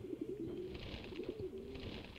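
Pigeons or doves cooing in the video game Shenmue, several soft repeated coos in a loose rhythm over a faint ambient background, fairly quiet and without talk.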